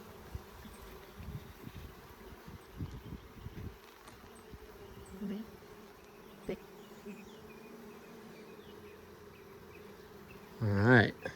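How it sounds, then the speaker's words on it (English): Honey bees buzz around a hive full of shimmering nectar as a steady low drone throughout, with a loud close buzz passing near the end and a few handling knocks. "And all these bees getting their fill."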